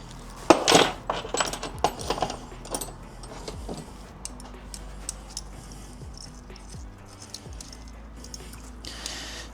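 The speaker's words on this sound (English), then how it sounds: "And we need some Allen keys right there." Metal Allen keys clink and jangle as they are handled during supermoto brake work, a few sharp close clatters early on, then quieter scattered rattles over a low steady hum.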